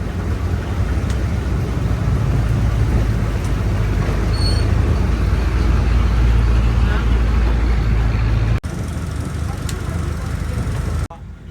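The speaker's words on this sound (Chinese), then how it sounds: "船缓缓驶离岸边" A boat slowly leaving the shore at a river mouth near floating villages in Cambodia, its engine a steady, loud, low drone throughout, with a voice speaking over it.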